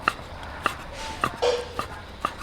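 A knife chops through boiled pork belly on a board in six evenly spaced sharp knocks, close and clear, with a brief scrape between strokes.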